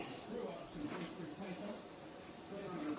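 Food sizzles in a pan in a home kitchen, a continuous bright hiss running steadily underneath someone talking.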